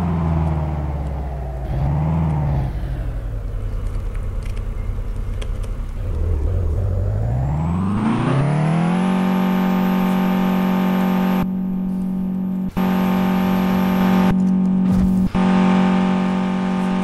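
A 2016 Dodge Charger R/T with its V8 revs in Euro Truck Simulator 2, the rumbling engine note climbing steadily in pitch and then holding a loud, sustained high drone, with no voices over it.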